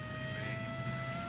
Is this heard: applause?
no